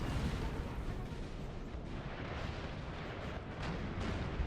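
Continuous heavy artillery fire and rumbling blasts from a Napoleonic battle in Napoleonic Total War 3, a dense, steady barrage of booms filling the whole stretch at high loudness.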